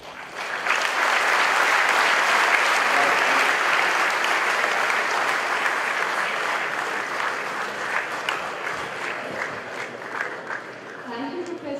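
An audience applauds a professor after his Think Again 2014 lecture, a loud, full, continuous clapping that slowly thins toward the end, with a faint voice beneath it.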